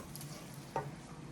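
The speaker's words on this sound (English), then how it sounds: "be careful because the ginger and garlic does spit a bit" Ginger and garlic sizzle quietly in a pan with a steady low frying hiss, broken by a single brief spit or stir clatter midway, with no voices.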